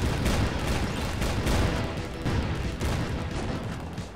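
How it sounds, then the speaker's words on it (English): Dense, continuous barrage of booming blasts and crackling impacts from a cartoon basketball cannon, loud and sustained with rhythmic bursts, like rapid cannon fire in a cartoon battle. "El Destructo has him in the crosshairs of his basketball cannon"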